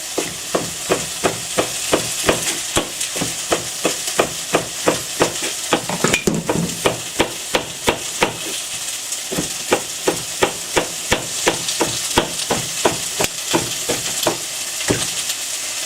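Beef for a sesame ginger noodle stir fry sizzles loudly in a pan, with a steady rhythm of utensil scrapes and knocks as it is stirred and tossed.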